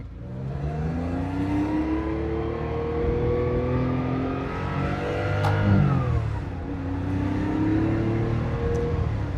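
A 1971 Porsche 911 E Targa accelerates in first gear, its engine note climbing steadily and loudly, briefly dipping, then rising again in a strong close drone.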